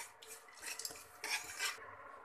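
Cashews and almonds dry-roasted and stirred in a pan, with steady scraping and light clattering of a spoon against metal, close and alone.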